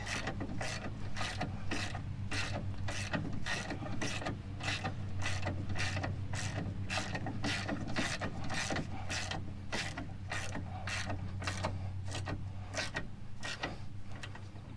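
A ratchet on a Honda Ridgeline rear strut bolt clicks steadily in evenly spaced strokes for the whole stretch, close and clear over a low mechanical hum.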